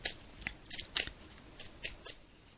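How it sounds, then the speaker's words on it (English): Tarot cards are shuffled by hand in close, crisp riffling bursts, about half a dozen quick slaps and flutters in an uneven rhythm with no talk. "So I'm just shuffling the cards now."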